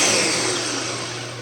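A kitchen blender runs loud and steady with a continuous whirring roar, slowly fading a little, frothing a casserole or pudding mixture.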